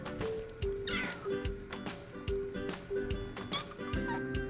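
Several house cats meow repeatedly at close range, short plaintive calls overlapping one another in an indoor setting with a little background noise.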